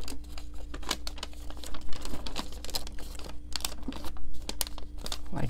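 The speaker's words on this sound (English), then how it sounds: "fold this valley fold here" Origami paper being creased into a valley fold for a unicorn model gives close, dry crinkling and crisp snapping rustles in irregular bursts, with no talking.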